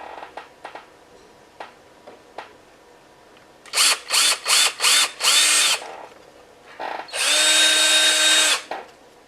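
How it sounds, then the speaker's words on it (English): Power drill boring a hole in a plastic Burger King Game Boy Color toy shell, close and loud: a few short clicks, then four quick whirring bursts, a longer burst, and one sustained spin near the end. "we're going to drill a hole here."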